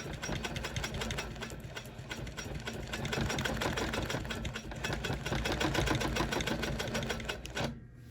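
A longarm quilting machine stitching around applique on a quilt, a steady rapid mechanical clatter of the needle running continuously and close, then stopping abruptly near the end.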